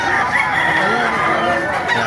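Roosters and chickens at the Baliwag chicken market in Bulacan, next to the Baliwag Central Terminal, crow and cluck loudly and close by in a dense, continuous chorus, with faint talk in the background.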